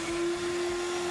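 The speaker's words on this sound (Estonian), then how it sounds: "tolmuimeja tööle" A workshop vacuum cleaner, hooked to a Mirka dust-free sanding block, runs steadily and loudly with a strong constant motor whine throughout, nothing else heard.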